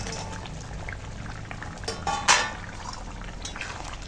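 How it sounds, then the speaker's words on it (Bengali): Rui fish curry with cabbage, drumsticks and spring onions bubbles gently in a pan, a soft continuous simmer with a brief louder stir or splash near the middle, close and low in level. "এবার একটু ফুটিয়ে নেবো"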